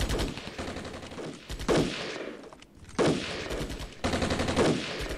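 Gunfire in the Armored Brigade war game, repeated bursts of rapid automatic fire separated by brief gaps, loud and close, with sharp individual cracks layered into each volley.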